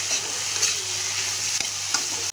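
Steady sizzling of chickpeas and bamboo shoots frying in a pan, with a couple of faint scraping stirs; no voices.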